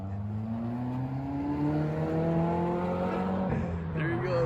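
Subaru WRX pulling away in East Hartford, its engine revving up through the gears as it moves off into the distance, moderately loud and heard from outside the car.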